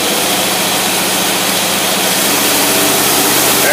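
An engine fitted with an Edelbrock carburetor runs on a dyno, producing a loud, steady, dense roar that holds at nearly constant level throughout with no pauses or voices.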